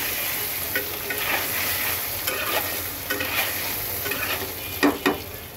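Boiled taro (mukhi) pieces fry lightly in a pan, making a steady, close sizzle broken by several scraping stirs and clacks of a spatula that are sharpest near the end.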